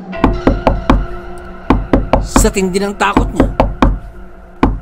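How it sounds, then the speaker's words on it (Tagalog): Repeated sharp knocks on a bedroom door, about a dozen steady raps in a horror-story sound effect, loud and close, with a voice narrating over them. "nang muling may kumatok sa kanyang kwarto."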